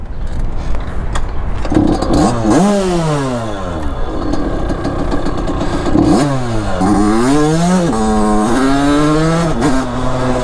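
A motorbike engine revs hard and close, rising and falling through several loud acceleration sweeps with a rough, buzzing tone.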